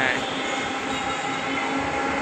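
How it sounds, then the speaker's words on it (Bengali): Metro rail train pulling into a station platform, a steady loud rumble and hiss of wheels and motors running continuously throughout, close by with no pauses. "ট্রেনও চলে আসলো।"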